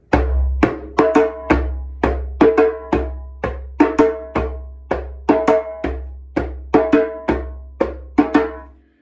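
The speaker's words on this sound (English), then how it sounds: "It's not usually played on the djembe, but in the djembe, it would sound something like this." A bomba rhythm played on a djembe, sharp hand strikes in a steady repeating pattern of single hits and quick doubles, close and clear with ringing tones, no voices.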